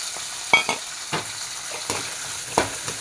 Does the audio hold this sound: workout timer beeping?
no